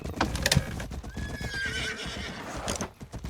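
A horse in a comedic GTA-style video game whinnies with a sharp neigh, hooves clip-clopping around it in a quick uneven patter, close and loud with no talking.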